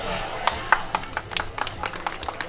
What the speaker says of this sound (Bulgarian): Аплодисменти, благодаря за невероятното откриване.